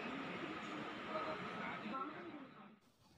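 Interior of a moving metro train near Edappally station gives off a low steady rumble and hiss that fades out toward the end, with muffled voices in the background.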